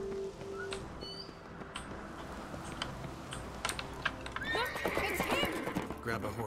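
In The Witcher 3: Wild Hunt, a horse whinnies clearly near the end over quiet game ambience, with scattered hoof clops and sharp clicking taps through the quieter opening.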